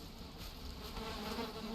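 Bees buzzing around a hive in the survival game Valheim, a steady close swarm drone with wavering hum, continuous and alone with no talking.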